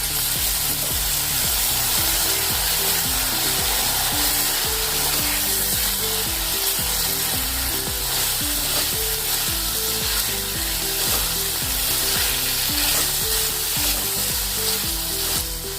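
Potatoes frying in a kadai for aloo pulao, alongside ginger and garlic, sizzle loudly and steadily at close range, with a rhythmic scraping of stirring repeating under the hiss.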